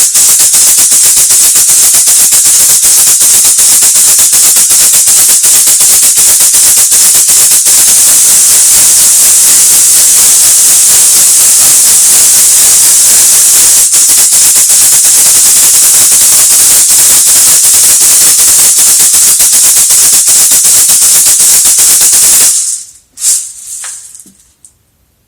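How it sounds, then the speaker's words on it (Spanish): Llanera maracas shaken in a steady, dense, loud hissing rattle that runs continuously for over twenty seconds before stopping abruptly with a few last shakes. "las maracas llaneras, con las que interpretamos la música del llano o la música venezolana."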